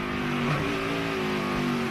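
A race car's engine drones steadily at close range for a couple of seconds as the car brakes and its wheels hop, during the 2010 Bucyrus 200 stock car race.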